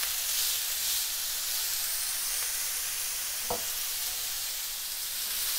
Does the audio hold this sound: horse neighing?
no